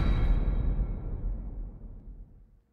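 Incoming wave stinger from an Unreal Engine game played through Wwise: a low, booming impact that rumbles and fades away over about two seconds into silence.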